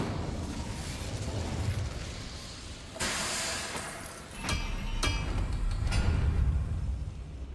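Fire spell cast in Hogwarts Legacy: a sudden burst near the three-second mark, then sharp crackling pops and clinks around five seconds over a steady game ambience, with no talking.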